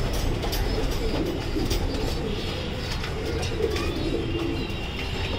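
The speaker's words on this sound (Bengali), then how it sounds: "কবুতর একে একে আসতেছে" Racing pigeons arriving one after another at a loft, a steady dense din of wings and cooing birds with a continuous low rumble throughout, close and fairly loud with no talk.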